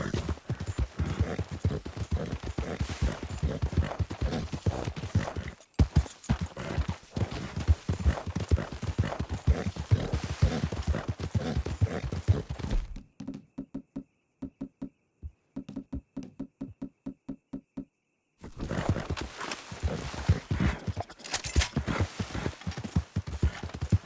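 Horse hooves clip-clop steadily in the Western video game Red Dead Redemption 2, a close, rhythmic run of knocks that stops for a few seconds of near silence, then resumes.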